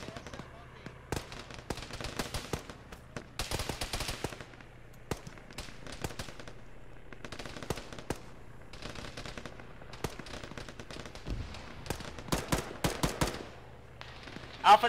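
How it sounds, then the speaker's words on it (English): Video-game gunfire aimed at a squad comes as repeated bursts of sharp automatic shots and scattered single cracks, some near and some farther off, while voices talk over the shooting. "Jeez, what's shooting at us?"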